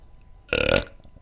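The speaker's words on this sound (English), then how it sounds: "Lemoncello burp." One loud, close burp after drinking limoncello, a short rough belch lasting under half a second against near silence.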